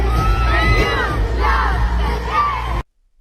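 A huge concert crowd at an Eras Tour show cheers and shouts loudly and continuously, with rising whoops and screams, before cutting off abruptly.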